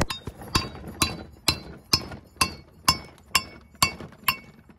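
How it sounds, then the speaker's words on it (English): A hammer strikes brick in sharp, ringing blows, about ten evenly spaced hits, each with a bright clinking chip that quickly fades. "Look, I'm starting to chip the actual brick."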